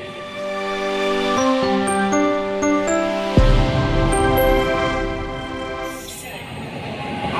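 An Indian train runs along during a rail journey, with sustained tonal horn-like notes over a loud, rumbling carriage roar that deepens and swells midway.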